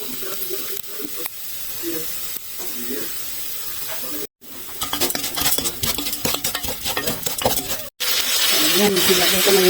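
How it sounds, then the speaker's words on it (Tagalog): Rice frying with browned vermicelli in a pan, stirred so the utensil scrapes and clatters against the metal over a loud hissing sizzle, with a brief break partway through. "You have to fry also the rice."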